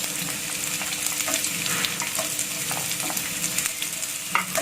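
Shallots and chili sizzle steadily in hot oil in a pan while being stirred, a dense, close frying crackle with faint scrapes of the utensil.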